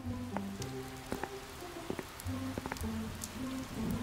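Heavy rain falls in a steady patter, with scattered droplet hits under a layer of tonal notes, fairly quiet overall and without voices.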